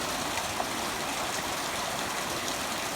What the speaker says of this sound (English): It started to rain. And look, my gutter's overflowing